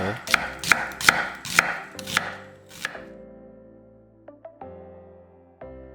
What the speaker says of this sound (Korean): 양파 4분의 1개는 살짝 굵게 채 썰어 담고